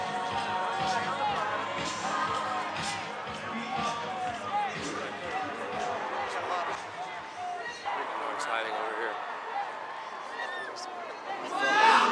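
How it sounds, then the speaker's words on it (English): A big crowd at a campaign-eve celebration, steady chatter and babble filling the space, with a nearby voice talking over it and thuds and footsteps scattered throughout. "See the crowd? I have seen the crowd. It's a big crowd."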